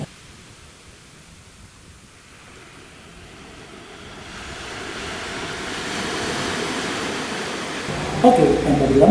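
Ocean surf at Ciputih beach in Banten, Indonesia: a soft, diffuse wash that builds into a louder, broad roar of breaking waves over several seconds, heard without talk.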